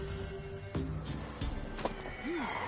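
A horse in The Witcher 3, with soft hoof clip-clops and a short whinny-like call near the end, faint under quiet ambient game sound.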